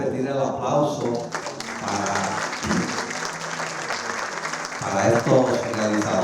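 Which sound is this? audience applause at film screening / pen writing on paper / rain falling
audience applause at film screening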